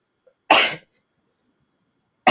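A single sharp, explosive burst from a person, loud and close, followed by silence and the start of another voice.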